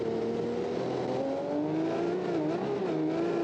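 A V12 car engine in the BeamNG driving game revs steadily, its droning note rising gradually as it accelerates, loud and continuous with no speech.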